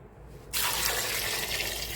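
Water pours over washed lemons in a pot for homemade pickled lemons. After half a second of near quiet, a loud, steady close-up rush of pouring water starts and keeps going without pause.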